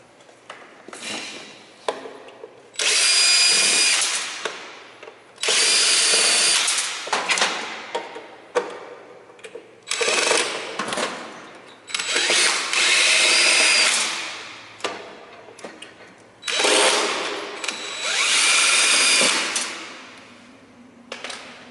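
A power drill whirs in several bursts of a few seconds each, removing screws, with short pauses and small clatters of handling between runs.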